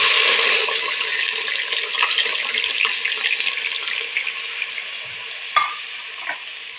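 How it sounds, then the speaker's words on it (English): Onions dropped into hot cooking oil sizzle loudly at first, then settle into a steady, bright frying hiss with occasional stirring clinks and scrapes, close and without talk. "Our oil is hot, so we're going to proceed with adding the onions into the oil."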